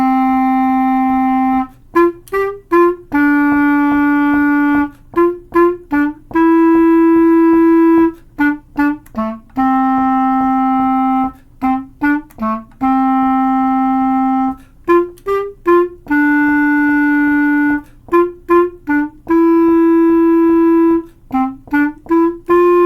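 Solo clarinet plays the simple tune Bill Grogan's Goat, with slurred and tied notes: a steady run of clear, close, sustained tones with brief breaks between phrases, no talking.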